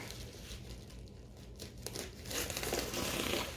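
A taped, bubble-wrapped package holding a painting is pulled open, giving continuous close crinkling and rustling with occasional tearing that grows louder and denser toward the end; no voices.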